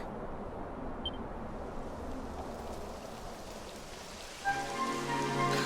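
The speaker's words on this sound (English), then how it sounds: "It would have to go and start raining, wouldn't it?" Rain falling in the video game Dragon Quest XI, a steady soft hiss of rainfall throughout, fairly faint, with a brief brighter tone joining near the end.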